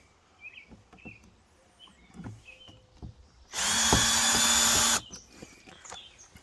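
A power drill whirs in one loud, steady burst of about a second and a half while mounting a Haloview BT-7 Plus on the side of a camper, with quiet handling clicks and faint bird chirps around it.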